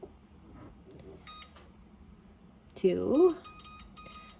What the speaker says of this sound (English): So I'm going to turn on my oven